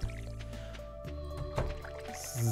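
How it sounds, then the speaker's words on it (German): A watering can pours over a sweet potato crop in the Stardew Valley video game, short splashy dripping sounds over a steady game music bed, with no talking. "die eine Süßkartoffel unten noch gießen"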